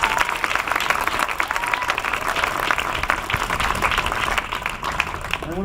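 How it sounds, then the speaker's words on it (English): Audience applause at a public address on gun violence, a sustained, even wash of many hands clapping together, loud and steady throughout with no speech over it. "So I just want to give you an extra round of applause for that."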